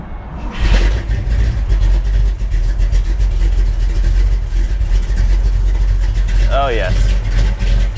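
A 1961 Pontiac Catalina with a 421ci engine starts and settles into a deep, steady, rumbling idle close by, while someone talks over it briefly.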